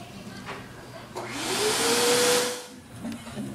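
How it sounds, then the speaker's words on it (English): A vacuum cleaner attached to a pinball machine setup switches on, its motor rising from a thump into a loud, steady rushing whine with a climbing pitch before easing back down. "I guess we should end with Wallace turning on the vacuum"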